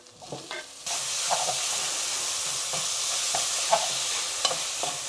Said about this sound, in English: Next, we add the tomatoes.